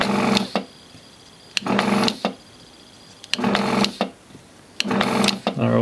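A desoldering iron working on the pads of a circuit board during a NIStune Type 1 board installation, giving four short bursts of sharp mechanical buzzing and whirring, close and clear, separated by quiet gaps.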